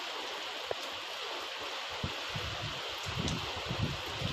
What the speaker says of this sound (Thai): วันนี้ฝนตกพี่น้อง